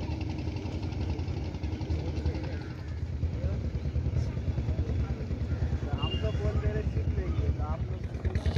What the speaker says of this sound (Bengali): বোট যাচ্ছে।